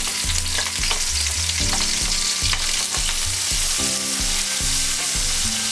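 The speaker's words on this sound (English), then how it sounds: "I'm gonna dump it straight into that oil" Leeks frying in hot oil in a pan give a loud, steady sizzle with crackling pops and occasional stirring scrapes, close and continuous with no talking.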